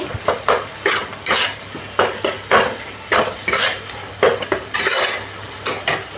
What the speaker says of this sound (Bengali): মশলাটা আমি এবার ভালো করে কষিয়ে নেব